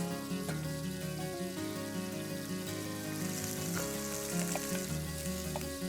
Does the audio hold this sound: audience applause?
no